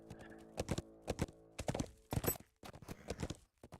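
Horse hooves in the video game Lord of the Rings Online, sounding as quick, loud clip-clop beats in irregular bursts with short gaps, close up and with no voices over them.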